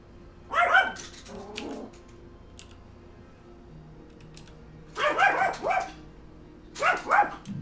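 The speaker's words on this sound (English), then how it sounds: "Nano's really good at that. Barking." A dog named Nano barks in three separate bursts of quick, sharp yips. Each burst holds several close, loud barks, with quiet stretches and a faint whimper between them, and no one speaks.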